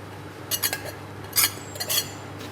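A utensil stirs lemon zest, parsley and garlic together in a bowl, giving a few quick, close scraping and clinking strokes in two short bursts over a quiet background.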